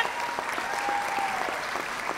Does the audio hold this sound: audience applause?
yes